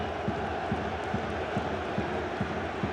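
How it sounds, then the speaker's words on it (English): A football crowd at an Oldham versus Leeds League One match cheers and chants after a Leeds goal, a loud continuous roar with rhythmic clapping beats pulsing through it. "All of a sudden, the crowd are alive"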